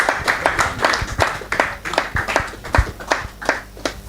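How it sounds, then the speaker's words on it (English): Audience clapping at an investing event, a moderate crowd applauding with distinct individual claps standing out in an uneven patter, steady for about four seconds. "Please, a round of applause for him."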